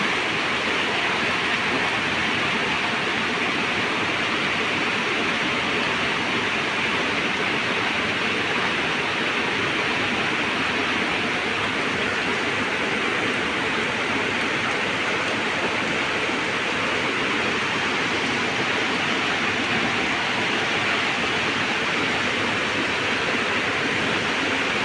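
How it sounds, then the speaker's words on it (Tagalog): Heavy rain on a mountain trail, a steady, loud broadband hiss of pouring water that holds unchanged from start to end with no voices. "lakas na ng ulan"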